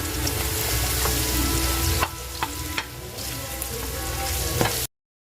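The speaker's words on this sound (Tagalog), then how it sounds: "Next natin ilalagay itong ating ham." Ham fries in a pan for a Kapampangan quail egg dish, a loud continuous close sizzle with a few stirring clanks of a utensil, then abrupt silence at the end.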